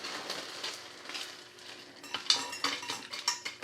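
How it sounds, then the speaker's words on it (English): Dry chunks of dehydrated egg rattle and patter as they are poured through a metal funnel into a blender cup, a run of light clinks and skittering taps that grows busier and sharper toward the end. "pour your dehydrated egg chunks in there."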